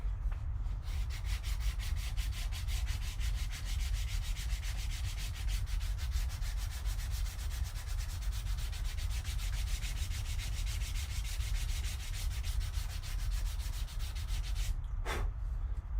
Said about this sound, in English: we now have to start working with sanding